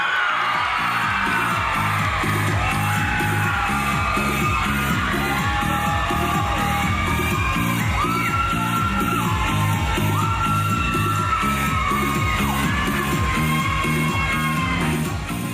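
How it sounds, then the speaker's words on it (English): A pageant audience at the Miss Cardinal City Pageant 2017 cheers, whoops and yells loudly for a contestant, with a dense, continuous crowd roar throughout. "A big round of applause for contestant number 9, Brianna Roman."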